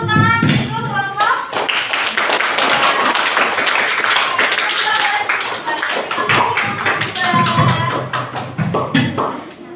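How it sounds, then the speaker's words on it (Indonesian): Students in a classroom clap for a presenting group, a loud, close burst of rapid uneven claps with voices mixed in and overlapping, tapering off toward the end. "Boleh kasih tepuk tangan untuk kelompok."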